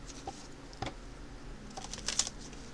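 A deck of cards is shuffled up close, with quiet brief riffling patters and a few soft flicks.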